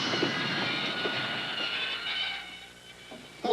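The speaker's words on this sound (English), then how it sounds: "The Venice Simplon Orient Express." Venice Simplon Orient Express luxury passenger train rolling along with a steady broadband rumble and rail hiss, moderately loud, fading slightly near the end before a brief bump, with no voices.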